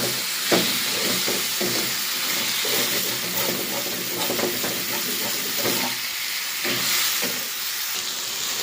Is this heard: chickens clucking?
no